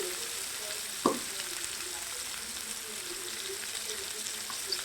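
Green chilies, carrot and ginger paste sizzle steadily in a frying pan for a Telangana-style palao, with one sharp scrape of a spoon stirring near the start; no one talks.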